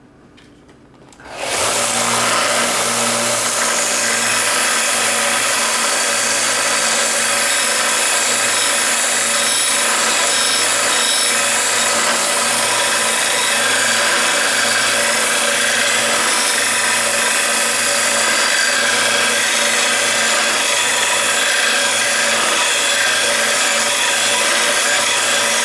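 A steel digger blade is ground to a single bevel to narrow its cutting width, giving a loud, steady abrasive grinding roar that starts abruptly and holds continuously, close and alone with no talk.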